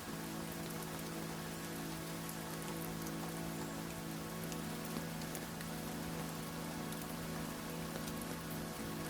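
Rain falls steadily on a surface, a quiet, even patter of drops over a low constant hum, with no voices.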